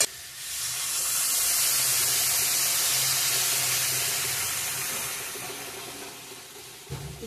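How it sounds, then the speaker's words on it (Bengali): A broad, loud hiss and sputter as water is poured into a pan of dry frying spices and potatoes for an aloo paneer curry. It swells within the first second, holds steady for several seconds and fades near the end. "জল অ্যাড করব এখন।"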